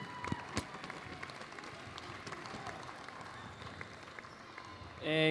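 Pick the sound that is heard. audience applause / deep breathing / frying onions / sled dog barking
audience applause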